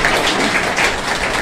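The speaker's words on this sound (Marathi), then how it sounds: "सरांसाठी जोरदार टाळ्या या ठिकाणी झाली पाहिजे" Applause from an audience at a Netsurf FDM and BWS programme presentation: steady, dense clapping throughout, fairly loud and close, with no voices over it.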